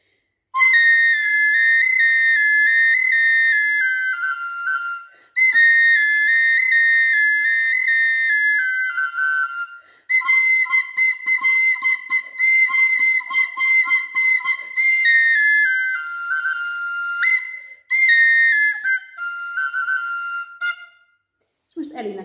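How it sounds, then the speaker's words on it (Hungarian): Zala folk tune played on a Hungarian double flute: a bright, reedy melody in phrases of held and stepping notes, separated by brief pauses, close and clear with no talking. "Hallgassátok meg az Zalai dallamot először ezen az ikerfuruján."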